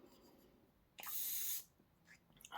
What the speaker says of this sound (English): And then I've just got the new finishing touch setting spray.